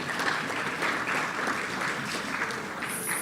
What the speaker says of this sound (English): If you can give another round of applause for that.